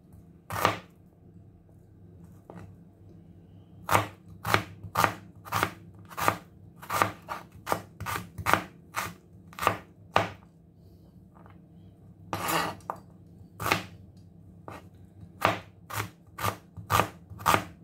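Onion chopped on a cutting board while preparing squid: crisp knife strikes in quick irregular runs of several cuts with short pauses between, close and clear with no talking.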